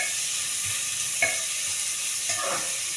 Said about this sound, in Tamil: அதனால் வெங்காயம் ரொம்பலாம் வதங்க வேண்டாம்